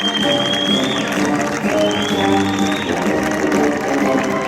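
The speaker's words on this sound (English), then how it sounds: "a big round of applause, a Hartpury holler for your winners, Caroline Harris and Billy Bumble" Crowd applause at a horse trials prize giving for the winning rider and horse, a steady wash of clapping and cheering with music and a whistle-like tone running over it, loud and continuous throughout.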